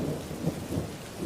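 Heavy rain pours with a deep rolling rumble of thunder beneath it, a brief, dense, close wash of storm noise with no voices.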